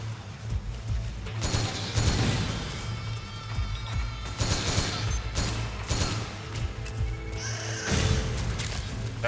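Pistol gunfire in Metal Gear Solid 4, with scattered handgun shots and impacts mixed into busy game sound and music, several bursts spread across the clip.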